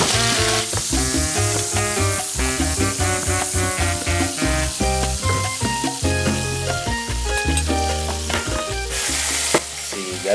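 Shrimp seasoned with garlic and parsley sauté in a hot oiled pan for Colombian-style Chinese rice, giving a loud, continuous sizzle and crackle with occasional stirring, under steady background music.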